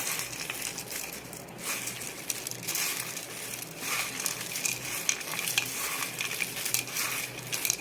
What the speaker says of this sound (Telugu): దీన్ని మనము ఇప్పుడు ఇలాగా కలుపుకోవాలన్నమాట